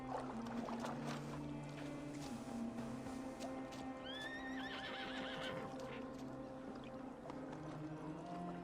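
A horse whinnies in Assassin's Creed Valhalla in a rising, wavering call over a steady background hum, with faint hoof and ambient noises throughout.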